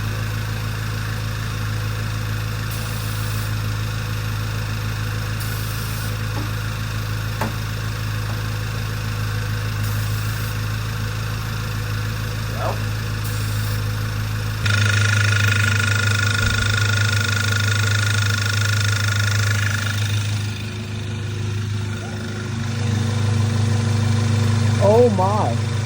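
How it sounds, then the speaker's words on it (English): A Volkswagen Mk6 GTI with a fuel leak settles into a steady, close idle with a low hum and faint whine, the tone shifting abruptly midway as the engine note changes, with light shuffling noises throughout. "So I'm gonna go ahead and start the car and see what happens."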